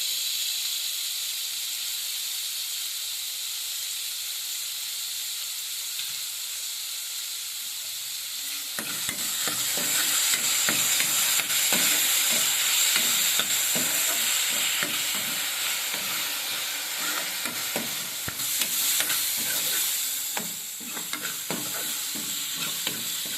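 Onion and tomato sizzle in a pan for a light soup, a steady frying hiss that grows louder when the tomato goes in, with scraping stirs repeating close by.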